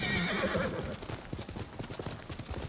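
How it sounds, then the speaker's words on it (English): A horse in the video game Ghost of Tsushima gives a whinnying neigh, then its hooves clop in a quick steady rhythm over a loud ambient game background. "Let me get my horse. It's a little faster that way."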